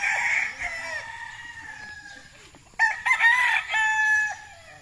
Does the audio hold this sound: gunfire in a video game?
no